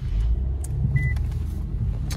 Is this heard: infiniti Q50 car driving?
yes